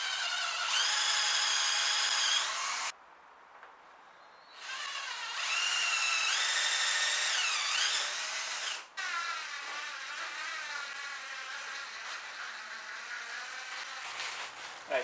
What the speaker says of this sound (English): drill the holes in the right places